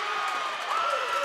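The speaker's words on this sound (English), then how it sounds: "Listen to that crowd. They're getting fiery here in Auckland." A tennis crowd in Auckland roars and cheers in a steady, dense wash of voices during a mixed doubles match, loud and close, with a commentator's voice faintly mixed in.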